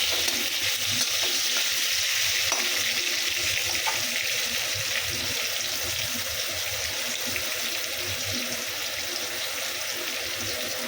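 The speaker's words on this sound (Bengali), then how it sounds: "এখানে হচ্ছে মাটন কষা মশলা দিয়ে সাতলাতে অনেক সময় লাগবে" Mutton with spices sizzles and sautés in a pan, a loud continuous frying hiss with scraping stir sounds throughout, close by and without talk.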